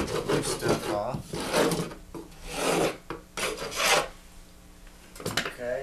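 Loose material is scraped and rasped off drywall around a patched hole, coming as repeated gritty strokes in bursts with short pauses between them, close to the listener.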